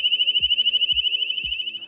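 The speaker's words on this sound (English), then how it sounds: "And last but not least, the alarm siren begins to sound." A Loxone building alarm siren sounds a loud, steady high-pitched electronic tone that pulses rapidly, while soft low thumps recur underneath it about every half second.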